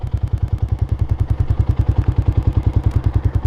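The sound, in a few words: motorcycle engine making clicking noises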